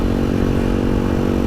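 A Halcyon 250 motorcycle rides along through Vermont, its engine a steady, loud, continuous drone with no talk.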